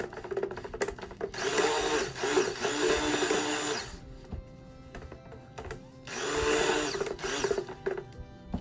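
A blender mixing shave soap whirs in two loud bursts with a quieter pause between, the motor humming and churning a thick, oily mixture close by.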